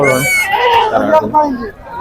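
Several large goats bleat loudly and overlap in a wavering chorus at the Pebbair livestock market, with busy crowd noise around them.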